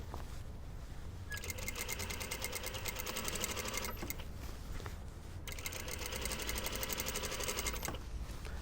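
Fast, even mechanical chatter of a sewing machine stitching a gathered puff sleeve for a blouse, running in two long bursts with a brief pause between, close and moderately loud.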